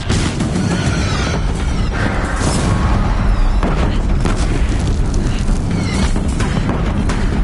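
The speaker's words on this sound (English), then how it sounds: "If the Deathbringers keep firing, this bridge will go." Deathbringer machine guns in Horizon unleash a dense, continuous barrage of booming explosive blasts, loud and close throughout with scattered sharper impacts layered over the rumble.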